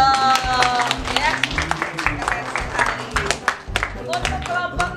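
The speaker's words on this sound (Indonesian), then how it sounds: "Tepuk tangan dong ya" An audience of students at a school class presentation breaks into lively clapping, with dense, overlapping claps running steadily through the whole moment, with voices and cheering mixed in.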